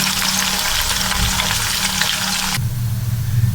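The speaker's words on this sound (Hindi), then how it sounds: "ऑयल को गर्म करके मैं इसमें प्याज डाल रही हूँ।" Onions fry in hot oil for fish salan, a loud, close, continuous sizzle with stirring noises, the crackle dropping abruptly partway through to a duller, lower bubbling.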